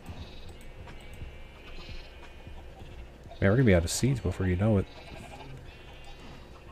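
Sheep in the Minecraft video game give a short burst of several loud, wavering bleats close by, over a quiet game background, with someone talking at a low level before and after.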